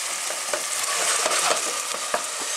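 Courgette and raisin chutney stirred in a hot pan, a loud close sizzle with repeated scraping strokes of the spoon every half second or so.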